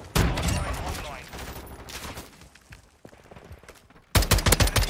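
Gunfire in a Call of Duty match, with bursts of rapid shots that fade into quieter scattered fire before a loud, close, rapid burst at the end, mixed with game noise.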